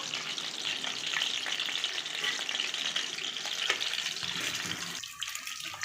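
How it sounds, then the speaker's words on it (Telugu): Eggs sizzle in hot oil with a soft, continuous crackling hiss and a few faint pops, and the sizzle drops off abruptly near the end. "గుడ్లు అయితే ఫ్రై అవుతున్నాయి కదా ఇంకొంచెం ఫ్రై అవ్వాలి"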